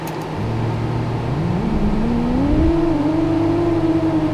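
Small 7-inch FPV drone motors spin up for takeoff, a steady loud whine that climbs in pitch over a few seconds and holds at a high throttle drone, heard alone with no talking.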